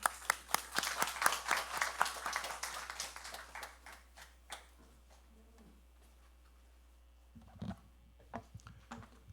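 At a Sunday worship service, a church congregation gives a warm welcome with applause. The clapping starts dense and lively, thins out over about four seconds, and trails off into a few scattered claps and quiet room noise.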